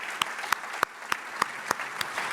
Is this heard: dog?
no